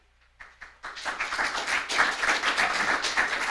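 Applause from the audience at a district's annual State of the District address starts with a few scattered claps and quickly swells into steady, moderately distant clapping from a crowd that holds to the end.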